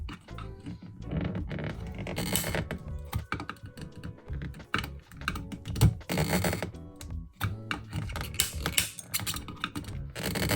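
A tool pries and breaks plastic out of a 2003-2011 Lincoln Town Car ash tray, making dense, close clicking, cracking and snapping noises in rapid irregular bursts.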